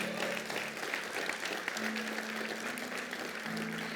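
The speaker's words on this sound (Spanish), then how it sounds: "Denle un aplauso al Señor bien fuerte" A church congregation claps in steady, close applause for about four seconds, with a sustained organ or keyboard tone sounding underneath.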